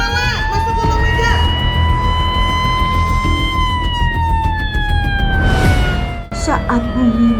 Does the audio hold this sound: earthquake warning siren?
yes